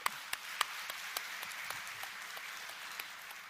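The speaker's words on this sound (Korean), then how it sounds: "우리 박수 한번 더 하겠습니다." Applause from a congregation at a Sunday morning church service: a soft, continuous patter of many hands with a few sharper individual claps standing out, fairly distant and steady throughout.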